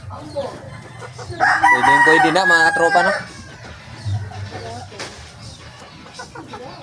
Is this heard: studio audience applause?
no